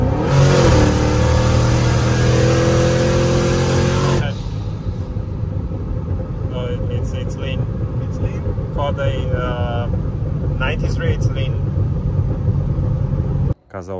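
A turbocharged 1000-horsepower Corvette revving hard for about four seconds with a loud, rising engine roar, then settling to a lower idling rumble, with people talking nearby.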